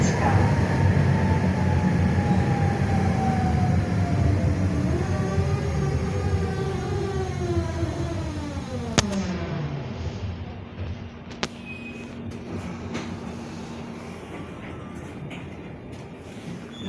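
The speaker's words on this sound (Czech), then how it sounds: "No, docela pěkná tramvaj. Jedu s ní úplně poprvý." A Prague tram rides from Chaplinovo náměstí toward Hlubočepy, its rising electric motor whine and rolling wheel hum filling the car steadily, with a few sharp clanks and rail knocks over the last stretch.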